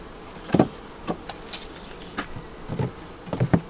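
A couple of bees caught at the end of a screen-wire hive screen during a nuc inspection give off short, intermittent buzzes, several close bursts spread irregularly with quiet gaps between.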